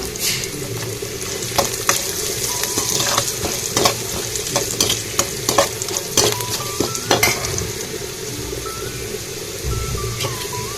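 Rice and spices roasting in a pan for Karnataka-style tempered rice, with continuous sizzling frying and repeated scraping, stirring taps of a spoon against the pan, close and fairly loud, no talk.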